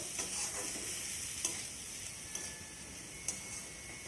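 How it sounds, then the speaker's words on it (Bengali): Pumpkin leaves with turmeric and sugar stirred in a pan, a soft steady sizzle with a few light spoon scrapes and taps against the pan, close and fairly quiet, no voices. "এখন সব কিছু আবারও ভালো করে নেড়ে চেড়ে নেব।"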